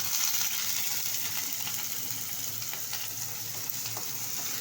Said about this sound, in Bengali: গাজর আর পেঁয়াজটা একটু ভাজা ভাজা করে নেব